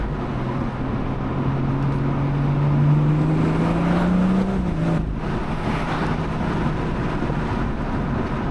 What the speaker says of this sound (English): it's got a bit of a like a turbo sound.